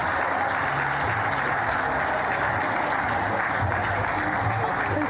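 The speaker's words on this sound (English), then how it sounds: "Let's have another round of applause for judo." An audience at a sports awards night applauds the judo team with continuous, even clapping that holds at a steady level from start to finish.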